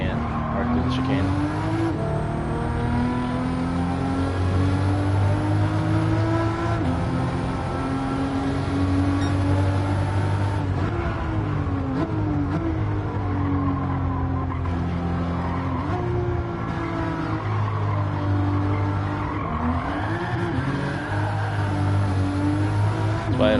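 Toyota Supra racing car in Gran Turismo 7, its engine droning loud and steady throughout with rising and falling revs through gear changes and braking, tyres squealing at times, with a voice talking over it.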